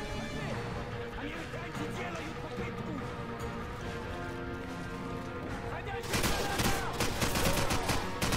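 AK rifle fire in Call of Duty 4 sounds in rapid bursts behind a busy game mix, turning louder and sharper near the end, with a voice talking over it.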